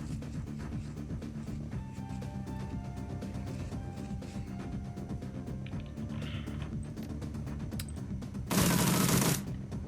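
Gunfire in the video game Shadowrun: Dragonfall: a steady rattle of shots under a game soundtrack, ending in a loud, dense burst of fire near the end.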